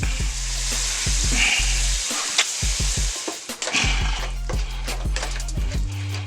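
Ground beef, already browned, is stirred with tomato sauce in a pan, giving a loud, steady sizzle with repeated scraping spoon strokes and a brief lull midway; no one speaks.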